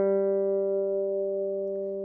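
A single open third string, G, on a guitar is plucked once and rings out clean and sustained, decaying slowly over about two seconds with no other sounds.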